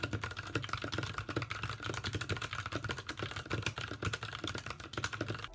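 Rapid, steady typing on a KBD75v1 mechanical keyboard rebuilt with tactile switches, dense muted keystrokes close up with no voices.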